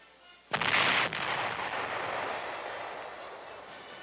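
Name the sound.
105mm howitzer fired by gun crew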